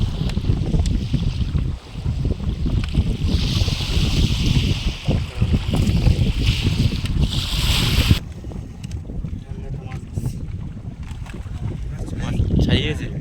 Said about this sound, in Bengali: ঢেউ হচ্ছে প্রচণ্ড।